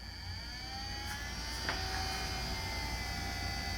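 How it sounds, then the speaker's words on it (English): A small fan runs inside a Kenzie at-home IPL laser hair removal device, a quiet steady whir with a faint electrical hum and high whine, close by with no talking. "You can hear the fan."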